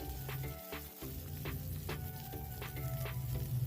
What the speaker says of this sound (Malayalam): ഇത് എണ്ണയിൽ തന്നെ ഒന്ന് നല്ല മൂക്കട്ടെ ഈ ക്യാരറ്റും പച്ചക്കറിയൊക്കെ.